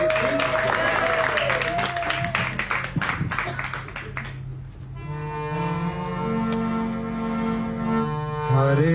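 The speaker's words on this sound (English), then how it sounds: "we should all clap" Audience clapping at an evening devotional program in Perth as a garland is placed, with dense claps in the first half giving way to sustained tonal chanting or music.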